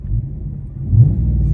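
A 2014 Dodge Charger's engine revs in a low, heavy rumble that swells briefly and then holds steady, close and loud, with no speech.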